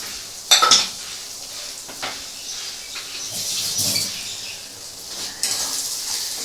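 Ginger and garlic paste is stir-fried in a pan with soft sizzling, scraped by a spatula with a few sharp metallic clinks, close and moderately loud with no talk.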